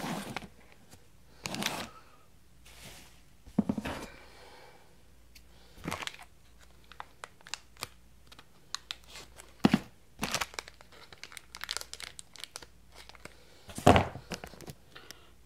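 Plastic blind bags of classic Ghostbusters Ecto Minis toys are cut open and unwrapped, giving sparse crinkles, tearing rustles and small clicks in scattered bursts over a quiet room.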